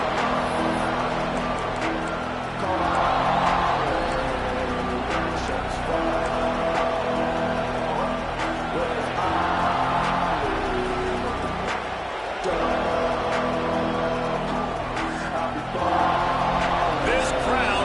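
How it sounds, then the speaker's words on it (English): Loud stadium crowd roaring continuously at a football game, a dense wall of cheering that swells in waves, with a commentator's voice running over it. "This crowd bringing an ear-splitting welcome to their visitors"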